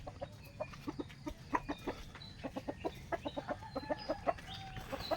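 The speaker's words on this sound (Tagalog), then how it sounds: "Ang daming manok guys." Many chickens cluck in quick, overlapping bursts, a busy flock close by with a faint rooster-like call among them.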